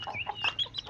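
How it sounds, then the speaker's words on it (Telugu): A Reza cross hen clucking close by in a small breeding unit, a quick run of short, rising clucks with no talk. "ఈ పెట్ట ఇది రేజా క్రాస్, హైట్ వెయిట్ బాగుంటుంది"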